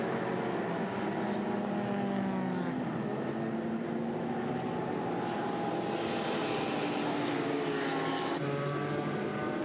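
GT4 race cars battle toward turn 12 at the Hankook 24H Dubai 2024 endurance race, a dense, loud, continuous engine roar with rising and falling pitches as cars pass close by.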